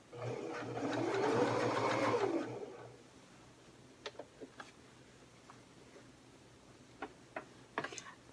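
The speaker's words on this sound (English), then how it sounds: "We're ready to stitch. We're going to go slow." A sewing machine stitches a tote bag slowly, its steady whirring run lasting about two seconds, followed by scattered light mechanical clicks and ticks in a quiet room.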